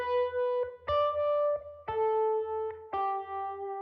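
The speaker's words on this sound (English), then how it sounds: "So with my fingers, it sounds like this." Electric guitar melody played with bare fingers, clean sustained notes with plucked attacks about once a second and a low hum underneath, close and full.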